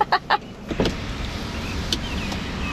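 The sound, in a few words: power window of Mitsubishi Outlander going up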